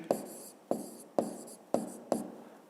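A pen strikes paper in five quick separate bursts of writing strokes, each sharp tap followed by a short scratchy trail, close and fairly quiet, no speech.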